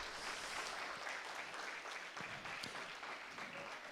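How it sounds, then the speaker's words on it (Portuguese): Applause from a church congregation during a Portuguese-language worship service forms a faint, continuous wash of clapping that sounds distant and steady throughout. "Aplauda ao Senhor bem forte."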